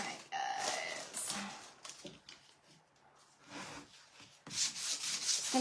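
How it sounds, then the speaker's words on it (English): Light rubbing and scraping of sandpaper on wood, in short uneven strokes close by, with a few quiet pauses between passes. "Just gonna give it a light sanding"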